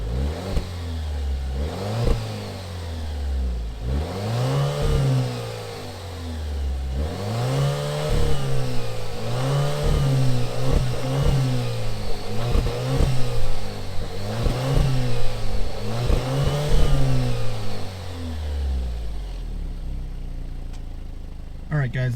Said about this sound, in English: We'll just go give you a quick rev here so you can hear what the exhaust sounds like